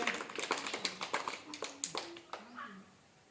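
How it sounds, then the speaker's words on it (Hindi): A group of children claps hands in uneven, scattered bursts nearby while an adult talks over them. "बजाओ ताली भैया उनके लिए।"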